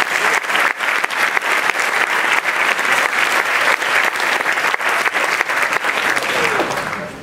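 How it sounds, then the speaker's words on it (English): Sustained applause from an audience at a school sports awards ceremony, steady dense clapping filling the room for several seconds before tapering off at the end. "We'd like to have one more final round of applause for all freshmen, 9 and 10 reserve and JV players and athletes."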